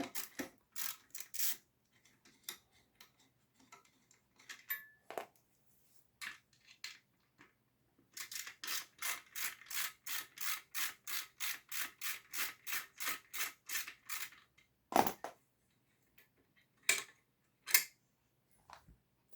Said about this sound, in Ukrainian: з ключа або викрутки просто відкручуємо без особливих зусиль задні болти